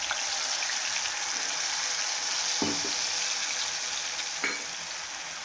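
Cluster beans (gavar) sizzle and fry in a pan for a dhaba-style curry, a continuous loud crackle with a couple of spoon scrapes and stirs over it, no voices.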